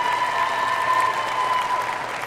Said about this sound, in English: So big round of applause for the volleyball seniors tonight.